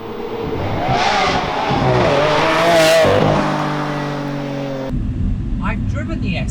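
Lamborghini Aventador SV engine heard from inside the cabin while driving, a loud continuous roar that rises and swells with revs, peaking around the middle, then settling into a lower steady drone.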